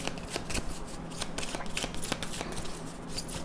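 Tarot cards shuffled by hand in rapid riffling, dense papery flicks and snaps running steadily throughout, close and fairly loud with no talking.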